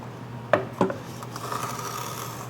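A hand cutter shaves wood while cutting a housing dado, with two sharp scraping bites close together followed by a softer, drawn-out rasping pass, all close and without talk.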